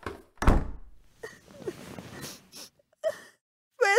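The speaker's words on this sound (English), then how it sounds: "Amita runs up to her room and slams the door." A door slams shut with one loud, heavy thunk, followed by quieter room movement, soft rustles and brief vocal sounds in an animated episode.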